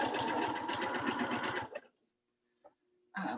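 A sewing machine stitches a quilted Christmas throw pillow in a fast, steady mechanical whir that stops abruptly, followed by a brief quiet click before it starts running again.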